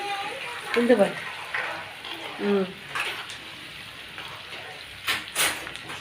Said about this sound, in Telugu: బాగా ఏగుతూ ఉంది అల్లం పేస్ట్